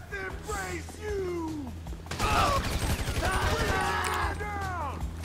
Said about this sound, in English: We got a combat situation. We're receiving fire.